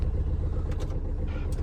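A new Suzuki Burgman scooter with its engine running, a steady low rumbling idle heard up close, with a few faint higher noises on top and no talking.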